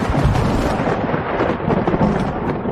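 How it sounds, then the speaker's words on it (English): Thunderclap as a storm breaks, a loud deep rolling rumble that fills the whole stretch and churns on without pause, with a rain-like hiss underneath. "That night the storm broke with a clap that shook the walls of my room."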